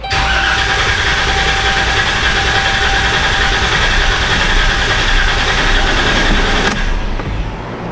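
A 2016 Dodge Caravan engine cranks continuously with the accelerator pedal floored, a loud, steady whirring drone lasting about seven seconds before cutting off abruptly.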